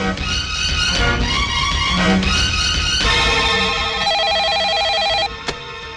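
A telephone rings loudly and insistently in repeated electronic bursts, steady and close, cutting off abruptly near the end.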